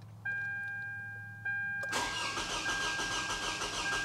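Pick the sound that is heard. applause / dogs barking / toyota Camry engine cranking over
toyota Camry engine cranking over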